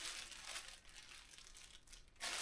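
A plastic waterproof bag for a Bergen rucksack crinkles as it is handled, with close, continuous rustling and crackling that flares in bursts and ends on a louder crumple.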